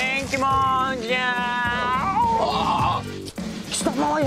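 A man imitates a goat, voicing long wavering bleats in a comedic Japanese drama scene, with strained vocal cries repeating across the moment, loud and close.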